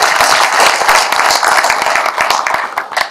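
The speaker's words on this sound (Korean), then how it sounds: "박수로 한번 시작하겠습니다." An audience at a lecture claps loudly together, a dense burst of applause that holds steady and then begins to fade.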